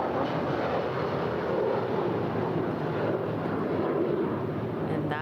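A United Boeing 757-300 jet departs LAX bound for Chicago O'Hare, its broad, steady engine roar filling the air at moderate loudness without letup.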